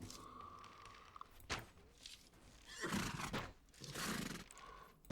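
A horse in the video game Mount and Blade: Warband, with a whinny, heavy thuds and loud breathy neighs and snorts against faint background noise.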